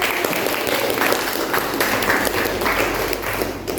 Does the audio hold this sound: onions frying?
no